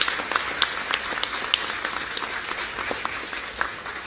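An audience at a cancer center ceremony applauds steadily for several seconds, a dense, even patter of many hands clapping together.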